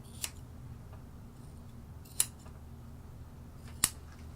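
Scissors snip the end of a poodle's tail hair, three sharp, crisp cuts spaced about two seconds apart, close and distinct against a quiet background.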